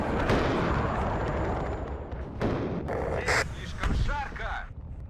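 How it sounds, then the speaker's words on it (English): Artillery shells landing in the video game WARNO during a 3v3 match. Several heavy booming impacts strike in succession over a steady rumbling background. "So the shots are coming in."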